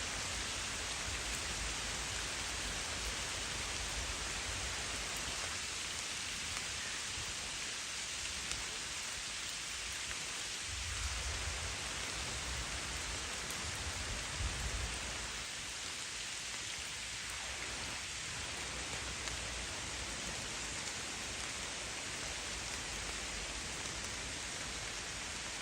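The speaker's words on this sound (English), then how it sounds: "it's been raining for a good 45 minutes or so now." Steady rain falls by Catfield Dyke on the Norfolk Broads, a constant soft hiss of drops on water and surfaces, fairly faint and even throughout, with no voices.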